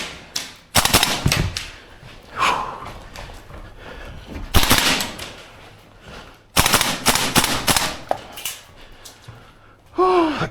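Bursts of full-auto fire from a Tokyo Marui AKM gas blowback airsoft rifle in an indoor CQB course, several loud sharp chugging strings separated by pauses, with footsteps and handling noise between bursts.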